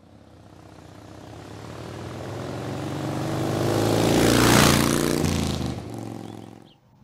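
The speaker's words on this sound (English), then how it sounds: "Every man and his dog's got his mower out." A steady engine drone from lawn mowers swells gradually, peaks, then fades, like small motors running somewhere nearby outdoors.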